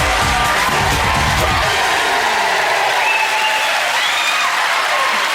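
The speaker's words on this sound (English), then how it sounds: "And keep your applause going for Michael Underwood and Angelica." A studio audience at a Saturday night TV entertainment show applauds loudly and steadily, a dense wash of clapping with some whoops and cheers mixed in, continuing for several seconds.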